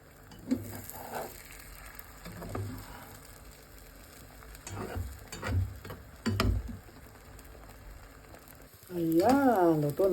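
Eggs fry in oil in a pan with a faint, intermittent sizzle and occasional ticks and clinks, while a person talks quietly at times and a louder voice comes in near the end.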